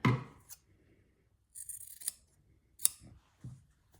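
Scissors trim wadding on a slow-stitched quilt block, several sharp close snips spaced out over a few seconds amid soft handling rustle.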